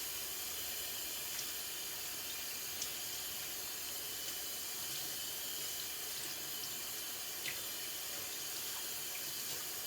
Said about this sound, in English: I am now going to go ahead and rinse them.